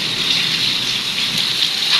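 Heavy storm rain pours down steadily around a house that is filling with floodwater, a loud, dense hiss with no pauses and no voices.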